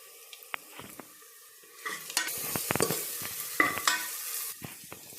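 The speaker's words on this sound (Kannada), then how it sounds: "ಈಗ ಮಸಾಲೆ ಫ್ರೈ ಆಗಿದೆ." Pounded masala with turmeric frying in a pot, soft sizzling broken by a series of scraping, clattering stirring strokes that grow busier after the first couple of seconds, fairly quiet overall.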